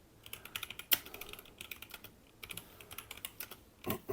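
Rapid typing on an MSI computer keyboard, close clacky keystrokes in quick irregular bursts with a few harder key hits, quiet and without talk.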